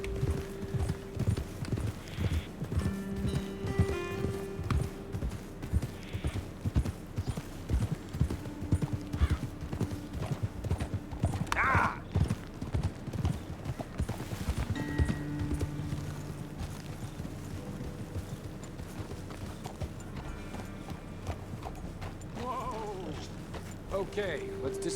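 Horses trotting in the video game Red Dead Redemption II, with a steady, rhythmic clip-clop of hooves running throughout, under scattered game sounds and faint voices.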